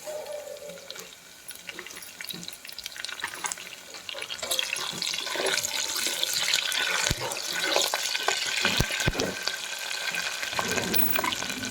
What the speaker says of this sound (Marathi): कांदा छान तेलामध्ये फ्राय झाल्यानंतर आपल्याला आता कढीपत्ता टाकून घ्यायचा आहे